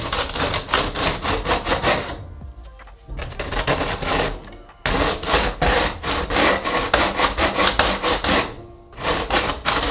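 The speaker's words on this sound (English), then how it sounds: "I'm gonna find some sandpaper and sand that edge" Sandpaper rubbed against the edge of a kick drum, a loud steady rasping in quick repeated strokes with two brief pauses.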